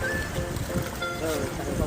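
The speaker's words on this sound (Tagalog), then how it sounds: "medyo malalim ang tubig, tsaka malakas ang alon" Strong sea waves wash and churn steadily around a small fishing boat out on deep, rough water, a constant loud rushing with gusts of wind.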